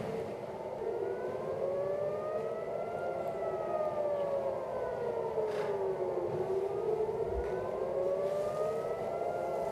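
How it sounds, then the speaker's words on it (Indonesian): A wailing Israeli air raid warning siren rises and falls in long, steady cycles, loud and continuous, with no talking. "Suara sirine terdengar sebagai peringatan warga Israel adanya serangan."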